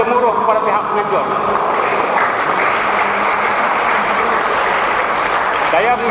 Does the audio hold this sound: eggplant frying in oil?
no